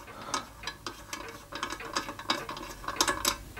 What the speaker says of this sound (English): Now I've loosened off the safety valve, so we'll take that out first.